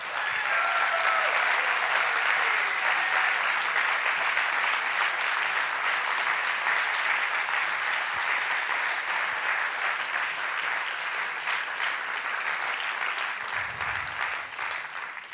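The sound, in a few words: audience applause at plenary session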